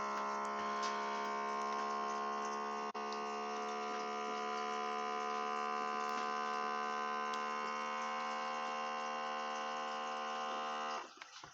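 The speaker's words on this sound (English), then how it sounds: "Vacuum seal it." A vacuum sealer sealing a bag runs with a steady, loud electric hum and buzz for several seconds before cutting off abruptly near the end, with a few faint clicks over the top.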